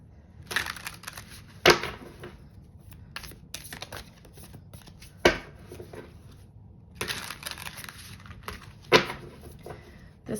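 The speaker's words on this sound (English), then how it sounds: "let me just give these a good shuffle." Tarot cards being shuffled by hand close up: crisp, papery riffles and slaps come in short bursts with a few sharper knocks, separated by quiet pauses.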